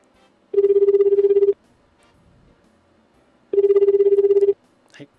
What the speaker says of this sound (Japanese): 愛媛の実行委員会に、お電話を差し上げてるんですけれども